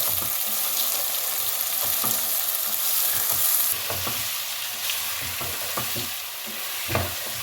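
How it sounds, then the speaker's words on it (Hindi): Boiled mungre fried with potatoes in a pan produce a steady sizzle, broken by repeated scraping stirs of a spatula, close and continuous with no talking. "अब मूंगरों को इसके साथ भून लें।"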